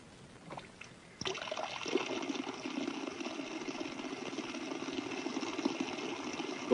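Ordinary water jets streaming from a nozzle in a lab setup, a steady broadband hiss and splatter that starts abruptly and runs continuously at moderate level with no talk.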